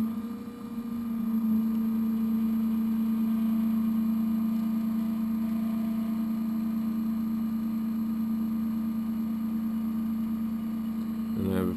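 A Shapeoko 3 CNC router carves a mini Flying V with a continuous whining motor drone, which stays steady and loud throughout with a faint background hum. A short burst of extra noise comes near the end.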